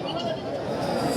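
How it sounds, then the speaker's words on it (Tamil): A young Nellore sheep lamb bleats at a busy goat and sheep market in Ranipet, a steady cry set against crowd noise and nearby talking. "ஐயா இது வந்து நெல்லூர் குட்டி."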